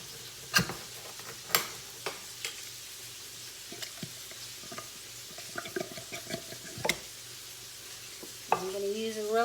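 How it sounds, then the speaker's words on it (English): A spoon stirs cream of mushroom soup and milk in a pan, giving scattered scraping clicks and knocks against the metal over a soft low sizzle, with a louder clatter near the end. "Just going to mix that, stir that up in there"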